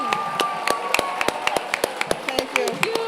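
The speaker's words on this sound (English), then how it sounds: "another round of applause" Scattered hand claps ring out at a graduation ceremony for the German International School in Washington, D.C. About a dozen distinct, fairly close claps come in an irregular rhythm while a person keeps talking over them.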